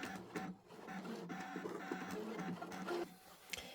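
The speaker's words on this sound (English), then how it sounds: "While my machine is cutting" A Scan N Cut machine cutting pumpkin shapes at close range, with a steady mechanical whir, carriage movement and small clicks and taps throughout, no talking.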